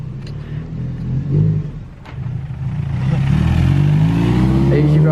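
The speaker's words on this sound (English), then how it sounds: "judging by the sounds of the car in the background" A nearby 350HP big-turbo Mazda 3 MPS engine idles with a deep rumble, dips briefly, then revs up and holds a rising, throaty drone.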